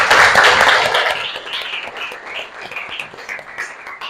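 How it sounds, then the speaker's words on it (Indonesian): Classmates applaud a student in a school classroom: a burst of clapping that starts loud and thins out over a few seconds into scattered, uneven claps from a small group, with a few faint voices underneath. "Beri apresiasi untuk Hana, tepuk tangan."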